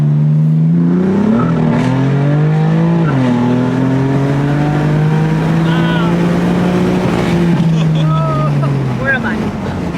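A BMW M4 engine revs up hard and climbs in pitch as it accelerates onto a highway, loud and close, with a brief shift dip partway through.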